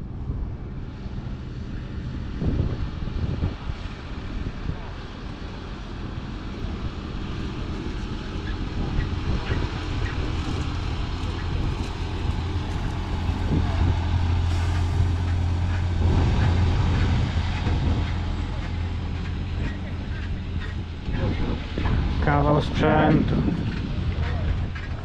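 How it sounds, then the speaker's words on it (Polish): Helicopters fly overhead at an agricultural fair, giving a steady rumbling engine drone beneath someone talking in Polish, with wind buffeting the mic and crowd bustle throughout. "Helikoptery latają dzisiaj."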